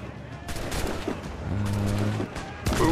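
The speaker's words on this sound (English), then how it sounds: "I have to kill the enemy captain with a headshot from the cannon." Cannon fire aimed at an enemy captain in the pirate game Assassin's Creed IV: Black Flag, heard as a series of loud booming blasts and rumbling gunfire in the game's battle soundscape.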